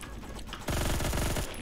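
M231 machine gun with a muzzle booster and 100-round drum firing a rapid, sustained burst of about a dozen shots in the Phantom Forces video game, loud and close after a short quiet lead-in, with no talking.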